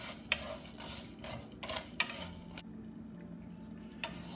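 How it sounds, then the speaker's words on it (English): Sesame seeds, Sichuan peppercorns and salt fry slowly in a pan, giving a faint low sizzle broken by a few sharp ticks and scrapes of stirring, quiet and close with no talking. "Now we just slowly fry the mixture."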